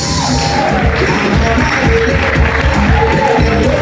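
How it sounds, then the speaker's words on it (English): An indoor crowd at an awards ceremony in Milton Keynes claps and cheers for a category winner, a loud, dense wash of applause with whoops and shouts running from start to finish. "please join us on the round of applause for Chris"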